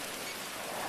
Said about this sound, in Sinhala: මං කියන්නේ මේ ලංකාවේ නෙමෙයි ගේම් එකේ වහිනවා